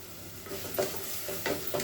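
Mutton frying in a pan for gongura curry: a steady, close sizzle with occasional scraping stirs of a spoon.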